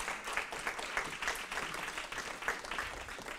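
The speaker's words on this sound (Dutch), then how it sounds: "Mag ik een daverend applaus voor Aniek?" An audience applauds Aniek at an evening event on domestic cleaning work, a fairly quiet, continuous patter of many hands with a few sharper claps standing out, no speech over it.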